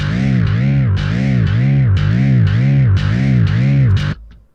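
Loki Bass 2 synth bass with vibrato bend intensity at maximum, a loud low buzzy tone whose pitch swoops up and down in wide regular arcs about twice a second, playing alone before cutting off.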